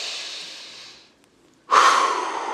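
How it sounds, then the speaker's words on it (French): Close-up deep breath: a long airy inhale that tapers away, a short near-silent pause, then a sudden loud exhale that stays strong to the end. "On prend une grande respiration"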